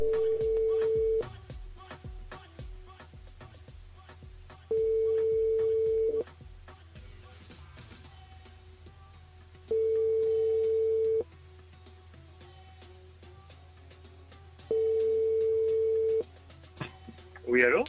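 A telephone ringback tone heard while a radio studio phones a listener: four long, loud, evenly spaced tones with quiet gaps between them, over a low background hum.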